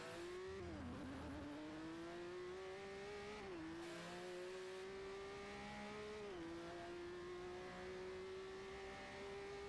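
A race car engine in Forza Motorsport 4 drones loudly and continuously, its pitch dipping at each gear change and then climbing steadily again, with no voices over it.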